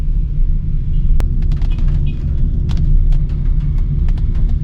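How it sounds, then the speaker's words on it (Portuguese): Light rain patters on a Renault Kangoo E-Tech electric van in São Paulo, with sparse, irregular small taps scattered over a steady low rumble inside the vehicle. "Tem algumas gotinhas aí batendo aí de chuva."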